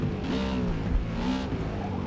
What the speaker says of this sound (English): that frickin' GT500 just sounds so good